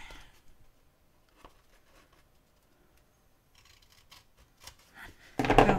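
Paper cut with scissors at a craft table while making a friendship journal, with soft snips and rustles, mostly faint and close, ending in a louder burst of handling noise.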